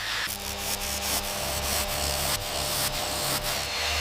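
A power polisher works the finish of a restored, once-rusty car, making a steady, dense rubbing whir with a low motor hum throughout.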